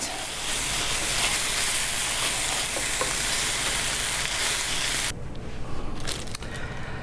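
Minced squeeze garlic frying in a pan before a French onion pot roast, a steady loud close sizzle that runs for about five seconds, then drops to quieter crackles and a few stirring clicks.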